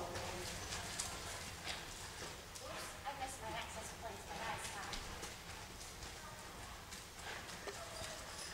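Horse hooves on soft arena footing at a riding clinic, heard as a continuous, fairly even clip-clop of steps at a walking pace, moderately close, with an instructor talking over them.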